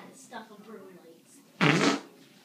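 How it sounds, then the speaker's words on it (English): A loud, broad fart rips out for about half a second after a stretch of low voiced sounds, close to the mic and standing alone at the end. "my farting is out of control"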